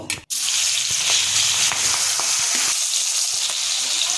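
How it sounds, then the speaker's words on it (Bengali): Steady, loud sizzling of hilsa fish coated in salt and turmeric frying in hot oil, continuous crackle and spatter close by, with a few soft clinks; no talking. "মাছে নুন হলুদ মাখানো হয়ে গেছে এবারে আমি হালকা করে ভেজে নেব"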